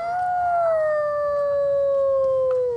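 A wolf howls in one long, sustained, slowly falling note, loud and close with no other sounds.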